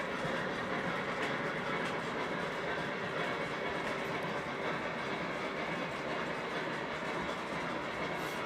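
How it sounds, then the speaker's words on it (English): A model train led by Rio Grande SD50 locomotives running on a layout, a steady continuous rumble and rattle of wheels on track, even in level and moderately distant throughout. "Mike, is that 2 or 3 Rio Grande SD50s?"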